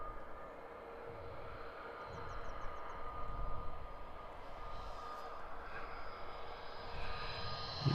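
An easyJet Airbus A320-200 airliner at Edinburgh Airport, bound for Nice, produces a distant, steady jet-engine roar that swells gradually as it takes off, with no voices.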